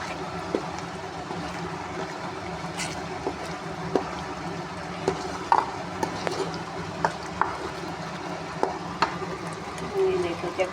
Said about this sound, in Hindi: इसको आराम से आपने हिलाना है चम्मच के साथ।